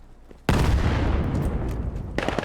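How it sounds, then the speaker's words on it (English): Sustained blind gunfire in the first-person shooter Vail during a competitive qualifier match: a loud, dense burst of shots begins abruptly and rattles on without pause to the end. "Doing a little bit of blind firing, seeing if we can get lucky."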